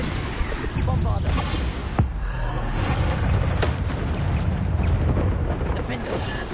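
Repeated Bombarda spell blasts in the game Hogwarts Legacy, a dense, continuous booming barrage of explosions with sharp bursts layered over rumbling low roar throughout.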